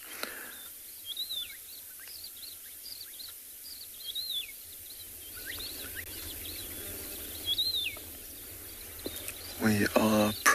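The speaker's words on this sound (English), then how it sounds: "Listen to the birds calling." Scattered short bird chirps and whistled calls at sunrise on safari at Tswalu, sounding at a moderate distance over a steady outdoor hum, with a brief louder noise near the end.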